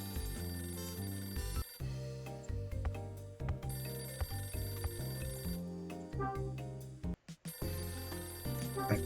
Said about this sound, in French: Un coup de téléphone, c'est jamais bon, ça doit être une erreur.